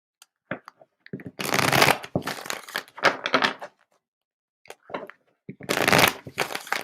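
Playing cards are riffled and bridged in several quick, crisp bursts separated by short pauses, up close.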